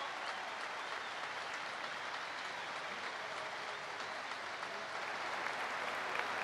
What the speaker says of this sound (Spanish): Los aplausos para la Sole, vamos, para Fabricio.